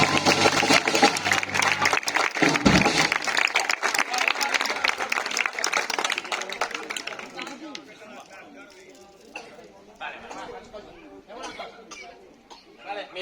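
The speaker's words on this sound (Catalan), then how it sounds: "Un aplaudiment per aquesta colla" An audience at an outdoor concert in a cemetery applauds loudly at first, then the clapping thins out and fades into scattered claps and crowd chatter, with someone speaking.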